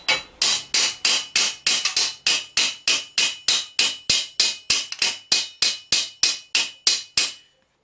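A hammer strikes a metal armour greave at the ankle in a steady run of about twenty ringing blows, evenly paced and close, with no talk.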